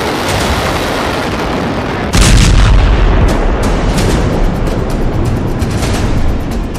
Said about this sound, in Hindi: जबरदस्त बम धमाके से पूरा बेरूत शहर बारूद की आग में भस्म हो रहा है